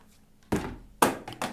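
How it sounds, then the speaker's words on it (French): A cardboard box is dropped indoors, giving a few dull, hollow thuds: one soft knock, then a louder bump followed by a quick double knock, with no talking. "J'ai fait tomber le carton."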